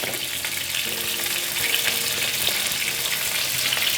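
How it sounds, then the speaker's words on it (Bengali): Pointed gourds fry in a pan with salt and turmeric, a close, steady sizzle with soft stirring scrapes running throughout and no voices. "পটলগুলোকে এভাবে ভালো করে নেড়ে ছেড়ে ভেজে নিতে হবে"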